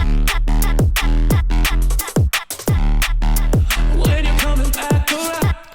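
Loud, brassy synth horn stabs without post-processing, sweeping downward pitch slides repeated in a dense rhythmic pattern over a thick low bass in a drop.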